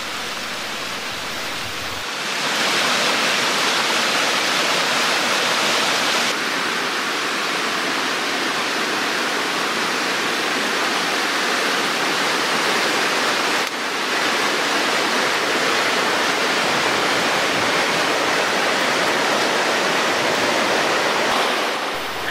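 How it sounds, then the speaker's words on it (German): Warm spring water flowing out of the ground at a captured spring in Costa Rica, beside dry forest: a loud, constant broadband rush of water that holds steady for the whole stretch. "Stellenweise tritt warmes Wasser aus, das hier gefasst wird."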